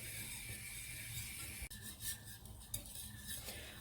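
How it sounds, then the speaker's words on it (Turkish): Milk pudding stirred in a pot as it thickens toward a boil, a steady soft scraping rub with a few sharper clinks of the utensil against the pan midway, close and fairly quiet with no talk. "Böyle ortası göz göz olana kadar karıştırarak pişiriyorum."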